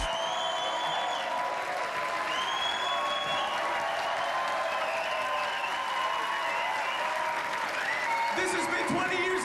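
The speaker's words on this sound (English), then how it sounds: "The crowd is in. They're very excited." A concert crowd at a band reunion show cheers and applauds steadily, with whoops and whistles rising over the dense clapping throughout, and a few thumps near the end.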